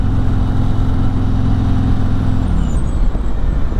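Harley-Davidson Road Glide Special motorcycle engine while riding, a loud close deep pulsing V-twin rumble holding steady then dropping lower as it shifts, with wind noise over it and no voices.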